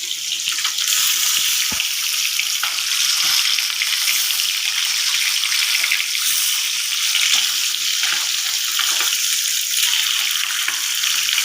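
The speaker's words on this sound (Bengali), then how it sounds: "মাছগুলো আমি ভেজে নিচ্ছি।" Rohu fish pieces fry in hot oil with a steady, loud sizzling hiss that carries on without a break, with no talk over it.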